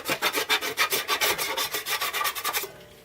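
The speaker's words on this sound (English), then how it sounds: "Like I said, I don't like sanding." Drywall patch being sanded by hand: a steady, rhythmic back-and-forth rasp of about a dozen close, even strokes that stops near the end, with no talking.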